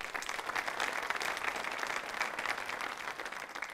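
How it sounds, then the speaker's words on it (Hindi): An audience applauds at a hospital quiz show event, with dense, steady clapping from many hands filling the hall and continuing evenly from start to end. "तालियां बजाएं उसके लिए आप।"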